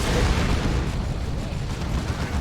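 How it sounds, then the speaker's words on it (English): A stun bomb detonates in Warhammer 40,000: Dawn of War 2 during an Ordo Malleus versus Orks battle, giving a loud, rumbling blast that rolls into a sustained, dense roar of battle noise lasting a couple of seconds. "Oh, it wasn't a burner bomb. Just a stun bomb."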